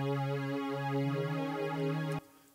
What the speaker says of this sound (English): A B3, a verse pad that is like this.